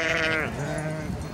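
A large flock of ewes bleats at dusk on a mountain massif in Isère, France, while being brought in for the night: many overlapping high bleats, loud and close, swelling and fading continuously without talk.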